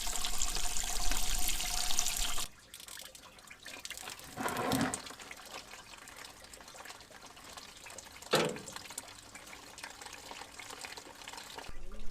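Antifreeze coolant draining from a tap on a vintage vehicle, a steady hissing rush that cuts off early, followed by quieter trickling and a couple of brief splashy bursts.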